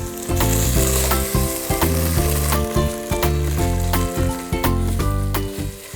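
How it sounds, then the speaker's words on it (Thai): Tomato paste stir-fries with spices in a pan for a tomato hotpot soup, giving a loud, continuous sizzle with stirring scrapes. Tonal music plays over it. "ผมก็จะใส่ มะเขือเทศเข้มข้นนะครับหรือว่าทอมเมโต้เพสตามลงไปครับแล้วก็ผัดให้สุกครับ"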